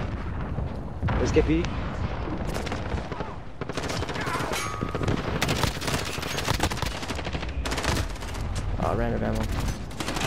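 Dense video-game gunfire, with rapid rifle bursts and crackling volleys, goes on almost without pause while players talk excitedly over the shooting.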